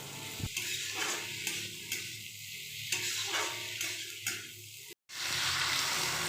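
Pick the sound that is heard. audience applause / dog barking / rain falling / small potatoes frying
small potatoes frying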